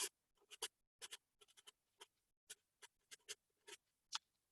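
Pencil scratching across paper as a one-line sketch is drawn without lifting, heard as close, crisp stroke bursts in an irregular rhythm, alone with no voices.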